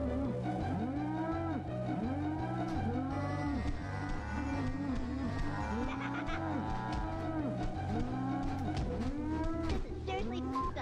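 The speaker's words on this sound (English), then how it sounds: "Cows don't do a shit ton of damage as long as you don't get constantly hit by them." Cows in South Park N64 moo repeatedly in overlapping, drawn-out calls, many of them in steady succession and loud throughout, with faint game sounds behind.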